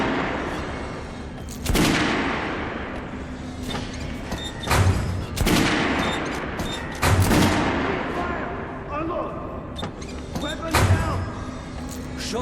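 Repeated gunfire on a weapons shooting range in the video game Metro Last Light Redux, with loud sharp shots every second or two over steady ambient background.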